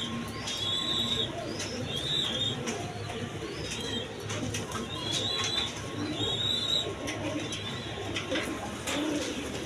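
A pair of big Iranian Barhum pigeons coo in repeated soft, throaty phrases, close by, over a busy background with brief wing flutters and faint voices.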